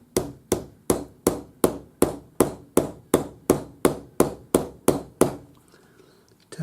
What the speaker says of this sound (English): So now we'll just use our rawhide hammer